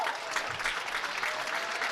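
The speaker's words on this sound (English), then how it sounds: "As the Tiger fans clap" Fans at a high school boys varsity basketball game in a gym applaud together, a steady wash of clapping from the crowd, somewhat distant and moderately quiet.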